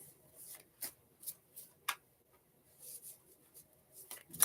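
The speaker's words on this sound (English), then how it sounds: "Let me continue to shuffle, make sure I have everything." Tarot cards shuffled by hand during a live reading, giving repeated short riffling bursts and soft slaps at an uneven rhythm, close and fairly quiet.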